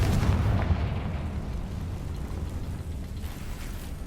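A Confringo blasting spell cast in Hogwarts Legacy bursts with a heavy low boom, then a dense, sustained rumble lingers for several seconds at steady, loud level.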